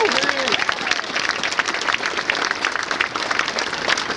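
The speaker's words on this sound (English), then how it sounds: "we owe the Chief of Staff a round of applause for himself as well" Dense, steady applause from a large audience fills a Pentagon ceremony honoring an army football team, a continuous clatter of many hands clapping at fairly high volume throughout.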